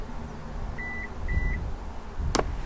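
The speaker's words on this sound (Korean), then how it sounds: "삑삑 소리가 나죠" A Kia All-New Carnival minivan sounds two short electronic beeps after its door-open button is held, followed by a brief soft click or thud over quiet cabin noise.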